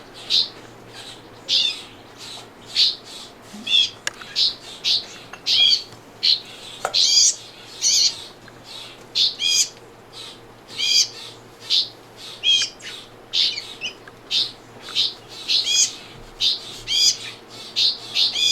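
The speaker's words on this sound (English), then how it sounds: "He's feeding our warbling vireo, I believe is what this is." A young warbling vireo being hand-fed at a wildlife rehabilitation center chirps steadily, repeating thin, high, insistent peeps in rapid bursts over a low room hum for the whole stretch.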